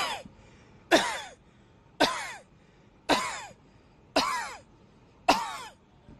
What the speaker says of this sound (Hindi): आप इधर नीचे देख के 5 बार खांसी करेंगे